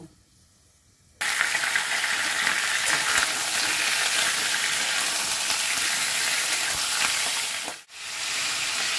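Garam masala and cracked cardamom frying with chicken pieces for chicken dum pokto, a loud, dense, continuous sizzle that bursts in abruptly after a quiet start and dips briefly near the end.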